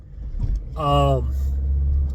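A car engine rumbles steadily from inside the vehicle while it drives around the block, a low continuous drone under a brief burst of talk.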